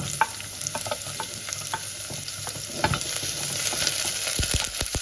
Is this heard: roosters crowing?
no